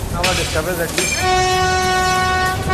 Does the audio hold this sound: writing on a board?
no